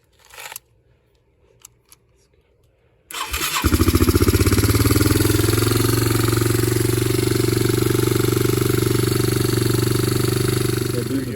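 A cold Yamaha Moto 4 quad ATV engine, freshly repaired after a bent valve, cranks and catches after a few quiet seconds, then settles into a steady, loud, rumbling idle that continues to the end.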